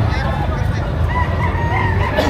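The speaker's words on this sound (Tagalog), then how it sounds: "Daming dalang manok ni Kuya." Chickens and a rooster at a chicken market in Padre Garcia, Batangas, clucking and crowing amid a dense, steady crowd din, with voices talking throughout.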